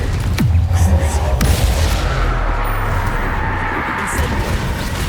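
Confringo blasting curse going off in combat in the PC video game Hogwarts Legacy: loud booming blasts with sharp cracking onsets and a dense rumbling tail, close and continuous amid heavy battle noise.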